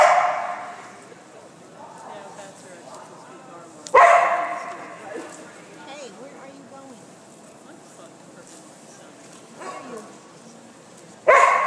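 A dog barks in several short, loud bursts spaced apart, with people chatting quietly in the background between the barks.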